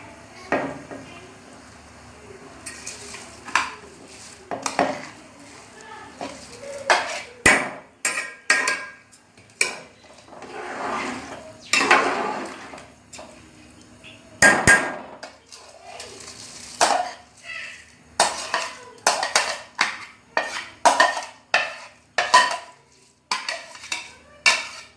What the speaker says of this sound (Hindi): अब हम इसमें चावल ऐड कर रहे हैं।